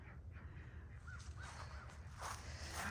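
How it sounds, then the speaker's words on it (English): A family of crows cawing around a West Virginia homestead on a frosty fall morning, several faint, distant caws spread across the clip over a low outdoor rumble. "there's the crows. We have a family of crows that stay here."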